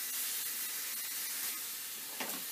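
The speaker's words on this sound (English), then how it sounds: "you can hear that sizzle on the bread" Steady, bright sizzling of pastrami frying on bread on a hot surface, continuous and close, with a brief soft clatter near the end.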